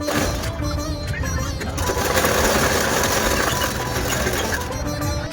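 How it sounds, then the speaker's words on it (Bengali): A sewing machine stitches a long frock being made from a saree, running steadily and close with a dense, even mechanical chatter and a brief pause near the start. "মেশিনে সেলাই ভালো করে বসছিল না"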